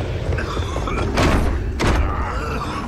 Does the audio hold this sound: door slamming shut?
yes